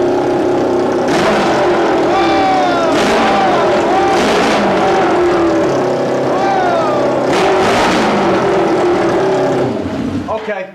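A restored Yamaha FZR motorcycle engine without a muffler revs hard and loud up close, repeated rising and falling throttle blips with raw exhaust bark over several seconds.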